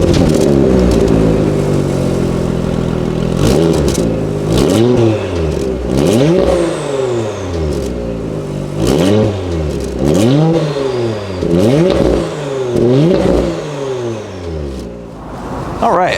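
A 2020 Porsche Macan Turbo with its active sports exhaust revs repeatedly while stationary, loud close rising and falling engine blips in quick succession over about sixteen seconds.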